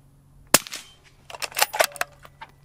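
A suppressed supersonic .308 sniper rifle fires one sharp, close crack outdoors, followed by a scattered patter of rustling and impact noise as the round strikes dirt.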